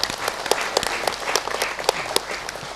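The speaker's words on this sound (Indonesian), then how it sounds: "kita beri tepuk tangan yang meriah." An evening audience at a community event in Brebes breaks into lively, continuous clapping, with sharp individual claps standing out from the crowd's steady applause.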